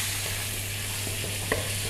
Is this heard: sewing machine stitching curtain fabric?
no